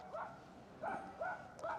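Dogs barking from a flat across the way at sunset, several distant, faint barks in an uneven rhythm over a steady outdoor background.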